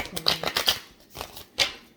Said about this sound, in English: And give it one more shuffle.